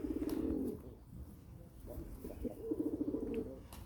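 Pigeons cooing close by in a couple of soft, rolling bursts, one at the start and another near the end, with quiet rustling in between.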